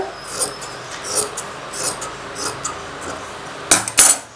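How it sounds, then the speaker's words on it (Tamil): Scissors cut blouse cloth straight for the sleeves. A series of soft, rasping snips repeats at a steady pace, ending in a couple of sharper, louder clacks of the blades. No one speaks. "ஸ்லீவ்ஸ் வந்து நான் அப்படியே ஸ்ட்ரைட்டாகவே நான் கட் பண்ணிக்கிறேன்"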